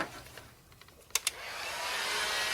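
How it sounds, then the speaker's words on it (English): A heat gun shrinking heat shrink tubing during a car fuel injector swap: a faint blower whoosh builds and holds steady after a couple of small clicks, with no voices. "Now with our heat gun,"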